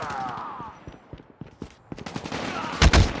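Gunfire in a multiplayer video game shooter, with rapid bursts of shots and sharp bangs amid game voice callouts, ending in a loud cluster of blasts.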